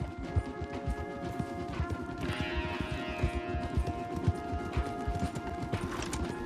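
Horses' hooves clip-clopping on a trail in Red Dead Redemption 2, a steady close rhythm of hoof strikes from more than one horse, with faint whinny-like tones and ambient outdoor sound underneath.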